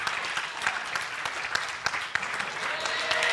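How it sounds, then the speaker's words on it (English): Applause at the Africa Women's Forum 2025 greets Ms. Shamim Kavuma of Uganda's NRM Women's League, a strong, continuous clatter of many hands with a few sharper claps standing out as it carries on. "She wants you to clap."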